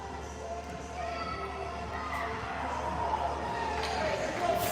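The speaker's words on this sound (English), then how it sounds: "And the crowd comes alive." Arena crowd at an outdoor hockey game in Osoyoos cheers and roars after a goal ties the score, a steady broad wash of voices that swells toward the end.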